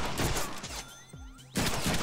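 Rapid gunfire bursts out in the Deadpool video game, loud volleys at the start and again at the end with a brief lull between them.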